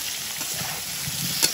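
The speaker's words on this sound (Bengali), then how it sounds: "এধারে তেলটা গরম হয়েছে, এবার আলুগুলো ভেজে নেব।" Potatoes fry in hot salted oil in a pan while a village-style desi chicken curry is being cooked, giving a steady close sizzle with a faint crackle and one brief sharper pop.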